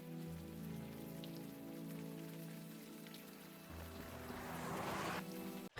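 Steady rain falls and patters on surfaces through a rainy street scene in the adventure game Unavowed, a dense, continuous hiss with low ambient hum beneath, swelling slightly louder toward the end before cutting off.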